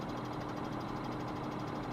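A tractor engine idles in Farming Simulator 17 with a steady, close, low rumble and an even knocking pulse, nothing else over it.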